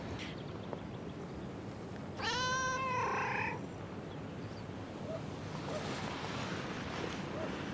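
A cat in a scene from the TV series Charmed gives a single clear, drawn-out meow partway through, set against a steady hiss of background noise.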